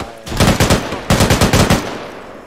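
Machine gun fire in a military shooter video game: two close, loud bursts of rapid automatic shots, each with about five evenly spaced rounds, separated by a short pause.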